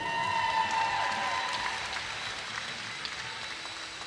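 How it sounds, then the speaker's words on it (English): A crowd at a women's timber sports championship applauds competitor Martha King, an even, steady wash of clapping from a distance that holds level throughout. "They got one more big round of applause for Martha King."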